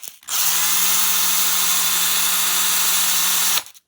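A power drill spins a threaded outer pistol barrel, whirring steadily at a constant high pitch for over three seconds, starting and stopping abruptly, loud and close with no talking.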